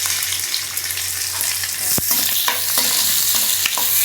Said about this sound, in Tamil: வெங்காயம் ஃப்ரை ஆகட்டும்.